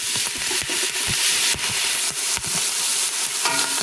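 A knife chops through two large celery stalks on a cutting board while preparing Italian minestrone: quick, uneven cuts land as sharp, close taps over a steady background hiss, with no talking.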